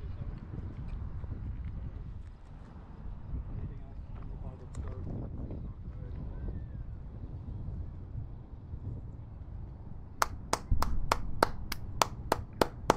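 A group claps in an outdoor setting. Steady background rumble and wind noise run through most of the stretch, then about nine sharp, evenly spaced claps ring out near the end, loud and close.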